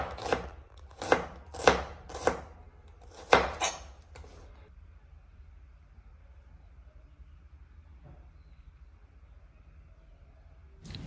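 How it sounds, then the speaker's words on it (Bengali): A knife chopping onions and chili peppers on a board, about six loud, evenly spaced cuts in the first few seconds, then near silence with faint room noise. "প্রথমে আমি রান্নার জন্য পেঁয়াজ ও মরিচ ঝুরি ঝুরি করে কেটে নেব।"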